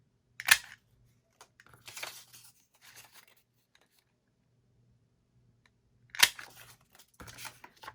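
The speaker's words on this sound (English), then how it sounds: "I'm going to cut the thumb holes" Scissors snip thumb holes into a paper pocket card for a junk journal, a few crisp cuts near the start and again near the end, with quiet rustling and pauses in between.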